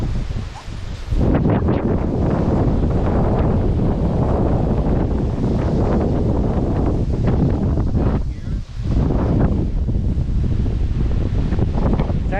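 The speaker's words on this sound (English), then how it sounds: "Sorry about the wind, guys." Strong wind roars and buffets the microphone almost without pause outdoors at the ruins of ancient Troy in Turkey, a loud, rough, steady rush with only a brief dip partway through.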